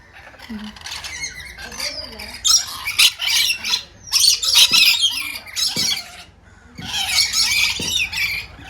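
Repeated raucous squawking up close from a colorful parrot hanging upside down in Thailand, bursts of shrill screeches with short pauses, amid busy bird chatter and faint clicks.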